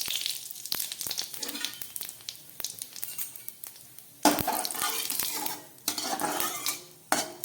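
White cumin and a bay leaf go into hot mustard oil in a kadai, with clinks and scrapes of metal utensils against the pan over a low, intermittent sizzle that swells louder in bursts toward the end.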